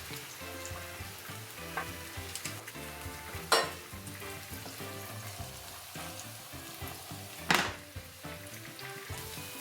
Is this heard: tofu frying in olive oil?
yes